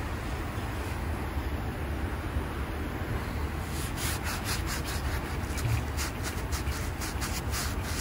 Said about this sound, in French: on gratte sur le ponçage des baguettes maintenant